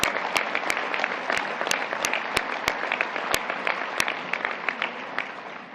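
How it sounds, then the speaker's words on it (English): Audience applause at a U.S. Soccer event honoring referees, heard as a scattered, moderately loud round of individual claps with sharp separate hand strikes over a softer background of clapping, and no speech. "I appreciate the applause, but it was a little early."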